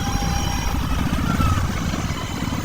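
A motorcycle engine rumbles steadily and loudly at close range while riding slowly through a traffic jam, with no talking.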